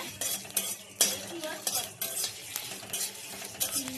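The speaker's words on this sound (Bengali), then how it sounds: "দেখতে পাচ্ছ চুটুর পুটুর করে ফুটছে" Spiced pickle bubbling and spluttering in a pan as it cooks, with a spoon stirring and clinking against the metal in irregular bursts, close and fairly loud, no talking.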